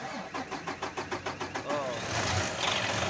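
A Mitsubishi 6R10 diesel engine cranks with a rhythmic, pulsing starter churn for about two seconds, then catches and roars into a steady, loud running rumble, heard up close.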